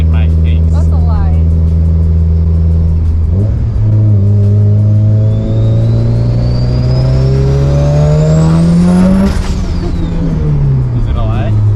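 A tuned Mitsubishi Evo 10 running 26.5 on pump gas accelerates hard from inside the car, engine note climbing steadily through a long pull before a sharp shift, loud and continuous with voices talking over it.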